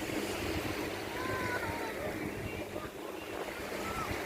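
Low-tide waves at Bang Saen beach in Chonburi wash in a steady, broad rush mixed with wind buffeting the microphone, with faint distant murmurs in the background.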